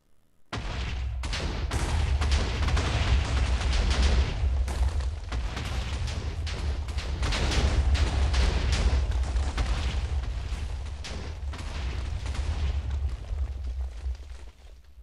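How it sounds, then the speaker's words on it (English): Bomb-filled houses in a Minecraft village blow up in a long rolling chain of booming blasts, deep rumble and crackling bursts, loud and continuous for several seconds with no talk. "I put bombs in all the houses. Now we're going to blow it up."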